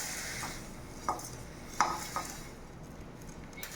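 Wet washed horse gram roasts in a hot pan while a spoon stirs it, giving a soft steady sizzle with a few sharp scraping clinks against the metal and no talking.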